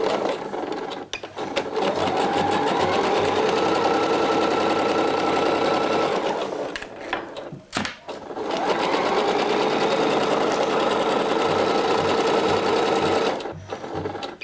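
A serger overlocks a seam on a blouse, a fast, loud mechanical whir running in two long continuous bursts with a short pause between them, heard close up.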